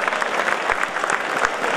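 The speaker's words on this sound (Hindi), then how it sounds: "जोरदार तालियां बजाएं।" Loud, dense clapping from a crowd at an award ceremony rolls on without a break, with a faint murmur of voices mixed into the steady applause.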